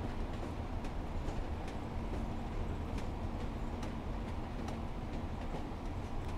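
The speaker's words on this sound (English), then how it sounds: "the route with the swaying and the bobbing and the clickety-clack, because it's non-welded track" A Pacer diesel train in Train Sim World 4 on the Blackpool Branches rolls over non-welded track, a steady low rumble with regular clickety-clack rail-joint beats heard from inside the cab.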